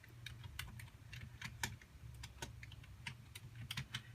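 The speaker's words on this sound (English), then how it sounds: "So I'm in the side piece right here where I can actually start typing in there." Typing on a computer keyboard: quick, uneven clicks of keys at close range over a low background hum, with no voices.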